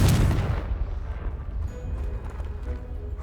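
A Confringo explosion spell in Hogwarts Legacy, one deep booming blast that rumbles and fades over a few seconds, loud and close, with no talk.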